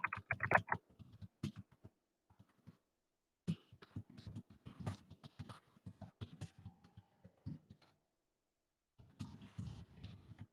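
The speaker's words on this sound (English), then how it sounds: "Yep, see, I'm typing better." A computer keyboard clatters close by in quick irregular bursts of key taps, broken by short pauses and a longer silent stretch before the typing resumes.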